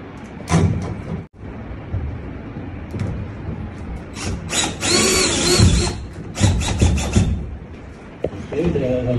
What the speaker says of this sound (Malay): Skru je sampai ketat.